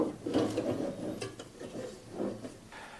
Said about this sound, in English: There are also 3 screws on the bottom. We have to loosen these bolts.